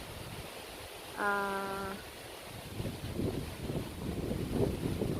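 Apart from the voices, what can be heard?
strong wind in the Philippines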